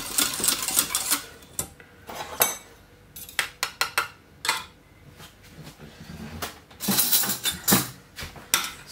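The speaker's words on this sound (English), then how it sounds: "You get a spoon and then put it on another spoon" Metal spoons clinking against one another and against dishes in a home kitchen, a string of sharp, irregular clatters and taps, some close and loud, with quieter gaps between.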